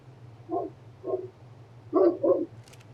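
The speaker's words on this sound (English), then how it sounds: "Sorry for my dog barking in the background." A dog barks four times in the background, two spaced single barks followed by a quick closer pair, moderately faint over a low steady hum with no talking.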